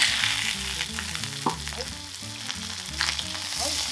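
Chicken thighs sizzle in a pan with an orange and soy sauce glaze, a loud, close, steady frying hiss with occasional stirring clicks.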